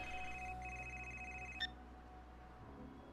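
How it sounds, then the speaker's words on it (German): A telephone rings in the adventure game Gray Matter, a faint electronic tone pattern ending abruptly with a click. "Oh, Telefon."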